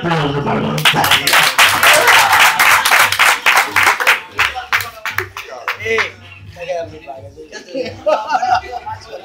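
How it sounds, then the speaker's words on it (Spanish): Audience applause and chuckling break out at a live magic show in a theatre, a loud burst of dense clapping that thins out into scattered claps and laughter after a few seconds. "Un aplauso para voluntaria."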